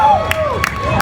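A live audience at a NAMM 2016 interview cheers and claps in a short, close burst, with sharp hand claps standing out over the whoops.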